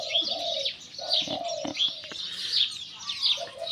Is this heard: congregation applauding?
no